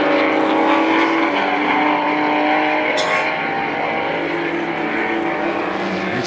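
Race cars battle at the Goodwood Members' Meeting, engines howling loudly and continuously as they pass close by, with a sharp mechanical snap partway through and the pitch easing slightly toward the end.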